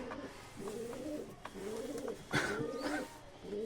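Pigeons in a rooftop pigeon house coo close by in repeated soft, throaty phrases, several calls overlapping in an uneven rhythm, with no talking.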